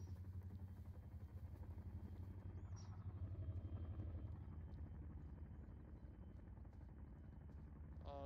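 A helicopter in the video game Arma 3 makes a loud, continuous rotor thrum and engine rumble that holds steady throughout, heard from close inside or near the aircraft.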